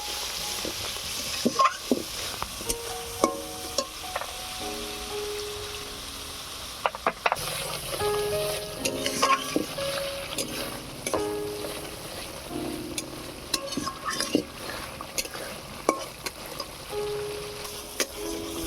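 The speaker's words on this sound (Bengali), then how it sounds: "মশলাটা এবারে ভালো করে কষিয়ে নেব।" Masala spices stirred and fried in a pan for soyabean kosha, a spatula scraping and knocking against the metal in irregular strokes over a low continuous sizzle, close and fairly loud, with no talking.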